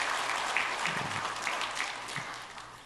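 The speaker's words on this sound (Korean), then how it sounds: "박수로 환영하겠습니다." A church congregation applauds steadily to welcome a newlywed couple during a Sunday service, a dense, even clapping from many people filling the room.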